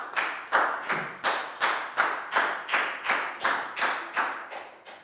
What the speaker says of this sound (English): Big round of applause for Latgau,